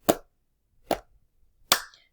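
Three close hand strikes at an even pace, two dull pats then a brighter, ringing clap, sharp and alone in a quiet room.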